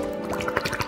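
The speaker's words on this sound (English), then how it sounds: "Pouring our drink into a glass." A drink, a milkshake being prepared with dry ice, is poured into a glass, giving a short close run of liquid splashes and drips.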